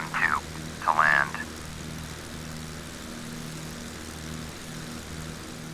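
Small propeller airplane on final approach to runway 12, a steady low engine drone with harmonic tones running throughout, with a short burst of radio-style talk near the start.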